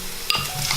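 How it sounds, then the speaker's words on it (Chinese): Garlic and tomato sizzle in oil inside a clay pot, a steady bright frying hiss with a couple of soft stirring scrapes, close and alone without any voices. "准备一个砂锅，加入适量的油，把蒜蓉放进来炒香"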